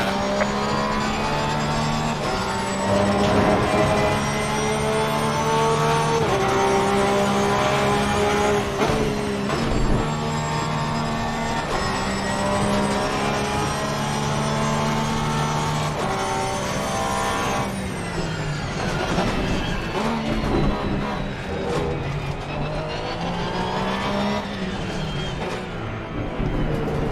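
Race cars in Assetto Corsa Competizione roar steadily for the whole stretch, multiple engines layered with rising and falling pitch as faster cars approach and pass close by, loud and continuous.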